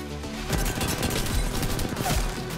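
Rapid gunfire from the Apex Legends video game, dense continuous bursts of shots with crashes, loud and sustained with no talk.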